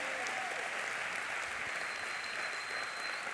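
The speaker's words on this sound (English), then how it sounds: "Come on, that's worth a clap." A church congregation breaks into applause, a dense, steady wash of many hands clapping that fills the room at a constant level, with no voices standing out.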